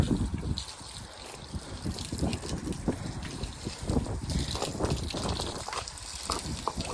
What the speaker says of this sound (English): So hosing her legs is always fun, but she's definitely getting better.